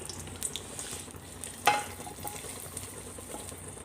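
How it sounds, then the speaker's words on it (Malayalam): A hot tempering is poured into kalan curry for an Onam feast and sets off a quiet sizzle, with one sharp splash-crackle partway through against a low frying hiss. "ഇനി നമുക്കിത് കറിയിലേക്ക് ഒഴിക്കാം"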